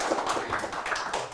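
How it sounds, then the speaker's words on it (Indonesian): Applause from an audience at an Indonesian business talk event, a dense patter of many hands clapping steadily throughout, moderately loud and fairly close, with no voices. "Sekali lagi kita beri tepuk tangan."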